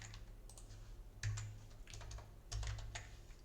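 Typing on a computer keyboard, soft quick key clicks arriving in short bursts with brief pauses between them, fairly quiet and close, with no speech.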